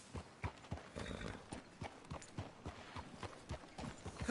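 Horse hooves clip-clopping at a steady walking rhythm in Red Dead Redemption, fairly close and distinct, with a brief whinny mixed in and no talking over it.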